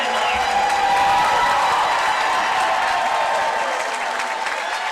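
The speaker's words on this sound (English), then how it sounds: "Getting a warm ovation from the crowd." Warm applause and scattered cheers from a crowd honoring a swimming champion at a collegiate swimming championship awards ceremony, sustained dense clapping throughout with a few whoops rising above it.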